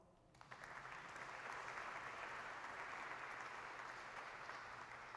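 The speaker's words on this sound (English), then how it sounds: "Can we give them a round of applause?" Audience applause fills the room, starting abruptly after a brief quiet moment and continuing as a steady, dense clatter of many hands throughout.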